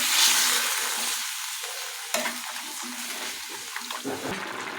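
Water hits a frying vegetable curry with a loud sizzle that fades into a softer hiss, while a spoon stirs and scrapes the pan in short close strokes.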